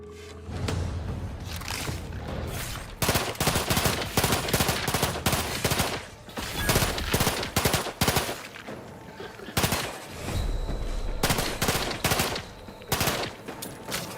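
An incendiary triple-barrel weapon in The Outer Worlds 2 video game, loud repeated gunfire bursts with fiery crackle, broken by brief gaps in a dense combat mix.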